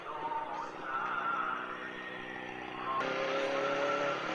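A Kawasaki ZX25R four-cylinder motorcycle passes on a group Sunday ride, its high-pitched whine moderate and somewhat distant, swelling slightly as it goes by, with another shift in tone midway.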